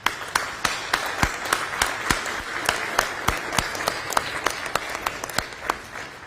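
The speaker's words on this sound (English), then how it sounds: "I want to give them a round of applause" A crowd at a state announcement of firefighter funding gives a round of applause, a steady spattering of claps with sharp close hits scattered through it, sustained evenly for several seconds.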